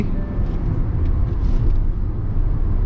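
A 2024 Hyundai Creta facelift diesel cruising in fifth gear near 90 km/h, heard from inside as a steady, loud low engine and road rumble with no clear rise in pitch.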